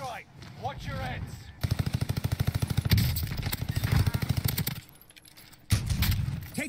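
Video game gunfire: rapid automatic bursts rattling in sustained volleys, loud and close, with brief pauses and a few single shots between; voices talk quietly at moments.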